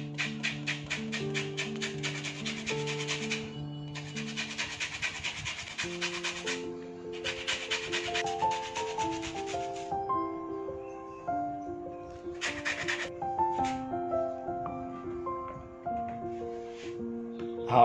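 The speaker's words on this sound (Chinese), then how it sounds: "我们只需要削它的这个皮，因为它的皮本身很香" A washed orange's peel being grated for zest, a steady rhythmic rasping and scraping heard close up in a kitchen, with music playing throughout.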